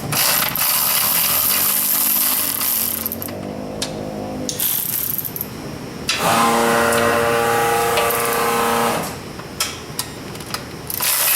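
Ratchet clicks in bursts while a Suzuki Samurai's drive shaft is unbolted in a workshop, close and fairly loud, with rapid mechanical ticking and pauses between runs and no voices.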